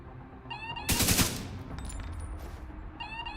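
Video game weapon fire bursts out once in a short, loud, noisy blast, set against steady game background noise and tonal electronic chirps.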